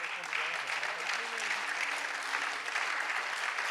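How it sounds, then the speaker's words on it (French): Sustained applause from a conference audience, a steady dense patter of many hands clapping at moderate volume that lasts the whole stretch without pause. "beaucoup d'applaudissements pour Clara Chapaz."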